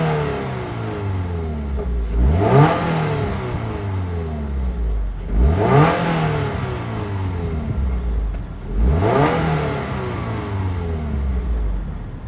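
A 2024 Toyota GR86 with a 2.4-liter naturally aspirated flat-four and dual exhaust revs three times from idle, each rev climbing quickly and falling back, loud and close, with steady idle between.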